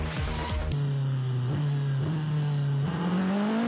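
A1GP open-wheel race cars roar past on the circuit through a tight chicane, one loud engine note sustained and rising near the end as it accelerates, with other engines blending in behind.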